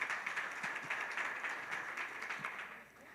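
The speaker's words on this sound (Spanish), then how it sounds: "Y un aplauso, por favor." An audience at a breast cancer workshop claps steadily for a few seconds, a soft, even patter of many hands heard from a distance that fades slightly at the end.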